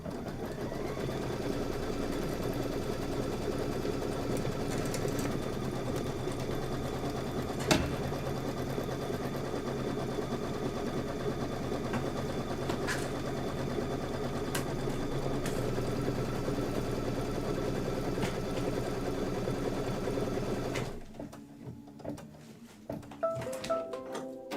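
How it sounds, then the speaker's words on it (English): Sewing machine running a quilting stitch on linen, a steady close mechanical hum and rapid needle chatter that lasts about twenty seconds before stopping, leaving faint handling clicks. "Go ahead and do your quilting stitch."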